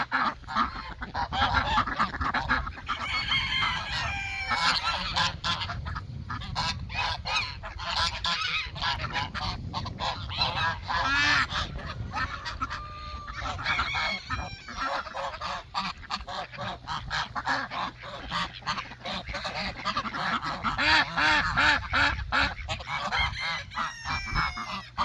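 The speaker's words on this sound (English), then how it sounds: "Some really good looking ducks and geese," Ducks and geese on a farm honk and quack in a loud, busy chorus, calls overlapping continuously and close by for the whole stretch.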